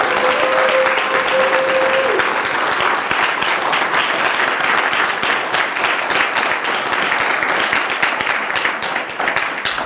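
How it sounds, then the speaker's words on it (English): Loud, sustained applause from a large audience at a talk, with dense clapping that keeps going for about ten seconds and a few faint voices mixed in. "Give it up for Dr. Anderson in the building."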